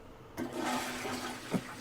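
A toilet flushes loudly and alone in a small room, with a sudden rush of water that swirls steadily and then gurgles as it drains.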